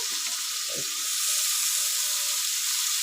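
Small mourala fish fry in oil with a steady hiss that fills the clip, joined early by a brief clatter of the pan or utensil.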